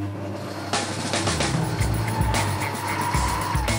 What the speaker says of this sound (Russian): мы воспользуемся насадкой кухонный комбайн в нашей кухонной машине